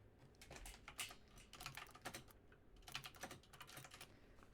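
Computer keyboard being typed on in bursts of quick, irregular clicks with short pauses between runs, faint and close, with no talking.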